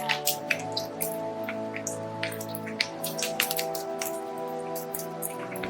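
Chapli kebabs, Peshawari style, fry in hot ghee on a low flame, giving a steady close crackle of popping and spitting oil with irregular sharp pops.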